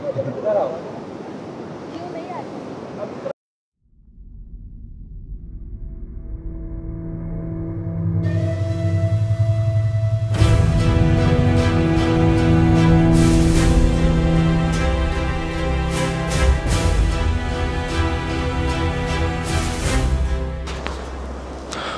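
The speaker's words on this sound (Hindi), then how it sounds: "पानी का फ्लो देखो कितनी तेज है।" Rushing water roars loudly and continuously after a brief quiet gap, a dense, powerful flow of a fast mountain river on the Kedarnath trek.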